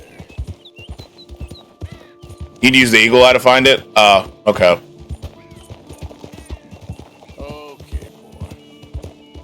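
Horse hooves clop rhythmically in the open-world western video game Red Dead Redemption 2, a steady gait under the game's ambience, with people talking loudly over part of it.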